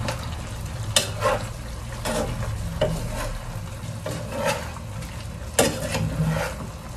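Chicken adobo stirred in an oily pan, close up, with a continuous sizzle and spatula scrapes, plus occasional sharp knocks against the pan.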